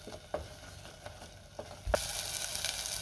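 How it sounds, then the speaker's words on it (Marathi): Ground masala paste frying in hot oil in a pan, a steady close sizzle that swells louder partway through, with a few soft stirring knocks. "वाटण मी चांगलं तेल सुटेपर्यंत परतून घेते।"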